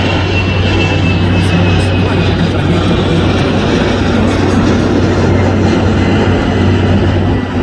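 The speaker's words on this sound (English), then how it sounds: "there goes yet another airplane flying out of the land" A loud, steady roar of an airplane engine passing overhead, a broad rumbling drone that fills the whole stretch.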